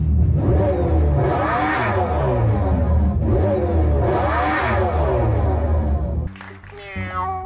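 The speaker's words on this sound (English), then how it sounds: "that is a fake EV engine sound that's trying to be aggressive" The synthetic engine sound of a Dodge Charger Daytona EV rises and falls in two long growling, revving swells, loud and close, before cutting to a brief shift in tone near the end.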